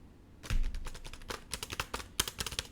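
Fingers tap on a computer keyboard in quick, uneven clusters of light clicks, close by and fairly quiet, with no talking.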